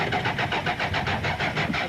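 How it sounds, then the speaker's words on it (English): Toyota Conquest rally car engine cranking repeatedly without catching, a steady rhythmic churn of about nine even pulses, loud and close with no voices. "Damso and Hodgson continued to try and coax that car back into life."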